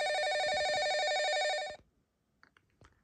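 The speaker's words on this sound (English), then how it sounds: "Now the phone's ringing, and notice how this one fades out." A corded telephone powered only by the phone line rings with a rapid warbling electronic trill that holds steady, then fades out quickly, leaving faint room noise and a few soft clicks.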